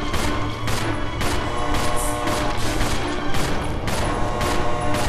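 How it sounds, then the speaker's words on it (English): Continuous gunfire in Resident Evil Zero, a dense unbroken barrage of rapid shots at steady loudness for the whole stretch, with no voices over it. "I am just firing like there's no tomorrow"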